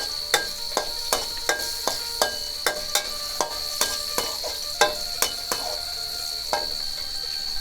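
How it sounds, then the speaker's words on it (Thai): Mackerel fries in oil in a pan, a steady sizzle with sharp regular clicks and taps roughly every half second, close and alone with no voices. "พักไว้ก่อนนะครับมาทอดให้เหลืองๆนะครับ"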